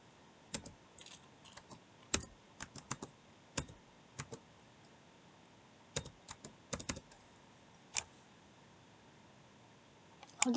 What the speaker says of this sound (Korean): 이제부터는 키보드로 하겠습니다